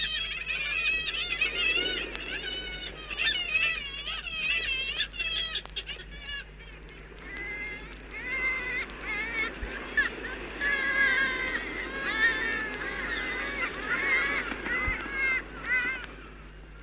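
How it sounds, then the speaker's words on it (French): Black-legged kittiwakes calling in a busy seabird colony, a dense chorus of overlapping nasal, wailing cries that rise and fall continuously, some near and loud, others farther off, with no pauses. "Plus curieux sont les cris des mouettes tridactyles."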